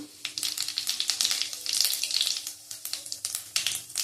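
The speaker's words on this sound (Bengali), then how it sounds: "ফটফট করে ফেটে যাচ্ছে। আলু ভেজে নেবো। জিরে ফোড়ন দিলাম" Cumin seeds crackling and popping as they temper in hot oil, a dense run of sharp sizzling pops with a steady frying hiss underneath, close and fairly loud throughout.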